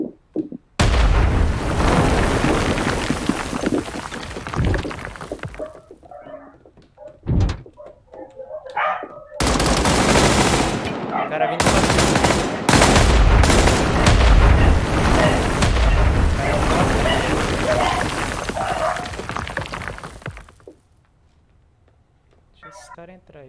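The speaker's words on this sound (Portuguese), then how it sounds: "Mas tem alguém atirando de longe lá, né?" Distant gunfire in the online shooter Badlanders, heard as scattered booming shots and bursts under a near-constant layer of game noise, with talking over much of it.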